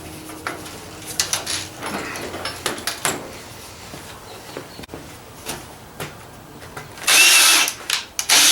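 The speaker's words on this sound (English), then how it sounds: "I need a new drill. This thing's a piece of crap." A hand drill works on a DIY minibike frame kit, grinding in short, uneven bursts with scraping and clicking; a louder hissing rush comes near the end.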